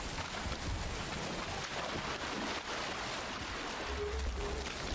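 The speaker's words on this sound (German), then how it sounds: "Es regnet, jetzt sind wir nass." Steady rain falls in the Valheim video game, a dense, even hiss of downpour with low rumbling underneath, continuous and fairly soft with no speech.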